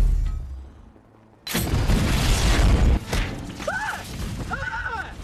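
A sudden loud boom bursts in after a quiet moment, followed by crackling noise and a couple of rising whistling tones.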